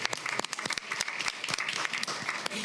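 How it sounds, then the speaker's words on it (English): Applause breaks out in the audience at a school district board meeting: a moderate crowd of individual sharp claps, loose and uneven, continuing for a few seconds. "Please give her a round of applause."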